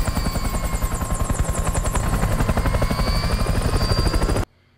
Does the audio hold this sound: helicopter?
yes